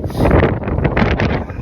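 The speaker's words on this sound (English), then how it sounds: "Sorry about the wind again." Steady buffeting wind roars across the microphone outdoors in cold weather beside a Polaris Ranger 1000XP Crew side-by-side, loud and continuous with gusty surges throughout.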